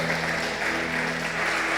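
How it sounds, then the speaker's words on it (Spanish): A congregation claps during a church worship service: steady, dense applause over a sustained tonal hum of instruments, with no talking. "Den un aplauso al Señor"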